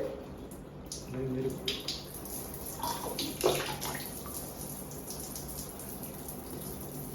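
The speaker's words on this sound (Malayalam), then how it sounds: "hand shower" Water from a hand shower sprays steadily in a bathroom during a hair wash after a straightening cream, a continuous hiss running the whole time with brief handling sounds early on.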